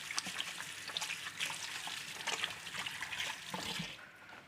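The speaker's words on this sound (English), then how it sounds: "I'm just gonna wash my hand." Hands are washed under a running tap in a home kitchen, giving a faint, steady hiss of flowing water with soft splashes and trickles throughout.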